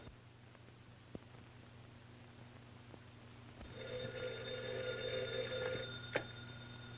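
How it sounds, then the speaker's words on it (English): An old telephone bell rings in a 1934 film, one long, fairly loud trill over a hissing soundtrack, followed by a sharp click. "Telephone. Telephone. Phone."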